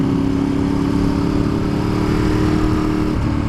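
A Ducati 848 Evo sport motorcycle engine idles and hums steadily with a loud, close, even tone, dipping slightly near the end, with no talk over it.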